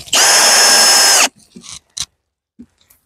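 A power drill drives screws into a wooden beehive while it is being readied for winter. One loud, steady whir runs for just over a second, then a few soft clicks and knocks follow.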